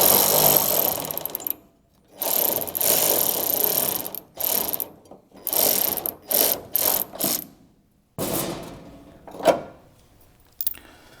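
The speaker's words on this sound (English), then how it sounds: "Now we're just going to remove these bolts." A hand ratchet clicks in repeated bursts while bolts are removed from an LS-swapped Ranchero, close and loud, with short pauses between strokes and no talking.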